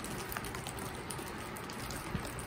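Steady rain patters and hisses continuously, with scattered louder drops against a surface; no voices.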